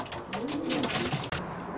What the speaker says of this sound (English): She's certainly a lovely looking pigeon.